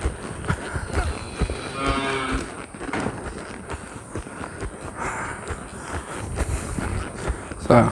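A cow moos loudly and close by, a long drawn-out call standing out over outdoor rustling and footsteps as people walk toward livestock on a farm.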